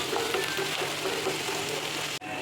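Ingredients for an egg curry sizzle steadily in a hot pan while being stirred, a continuous close frying hiss with soft scraping, briefly cutting out near the end before resuming.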